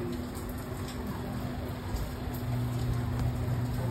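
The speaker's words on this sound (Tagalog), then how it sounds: "Nood kayo ulan dyan." Steady, soft rain hiss with a constant low hum beneath it, continuous throughout without any talking.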